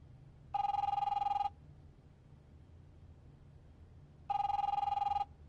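A telephone rings in The Wolf Among Us video game, two loud bursts of electronic bell trill roughly three seconds apart over a low background hum.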